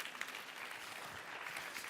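Audience applauding Jean-Étienne at a church gathering, a soft but continuous patter of clapping at steady level throughout, with no one speaking.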